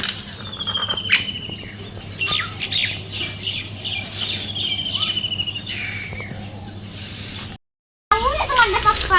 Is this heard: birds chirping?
yes